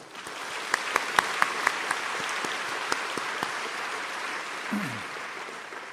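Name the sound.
audience applause at a dinner event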